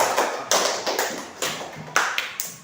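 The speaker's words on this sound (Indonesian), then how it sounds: "Tepuk tangan dulu untuk Abdan" Scattered hand claps from a small group during a classroom teaching session, about a dozen sharp, uneven claps close by with no talk.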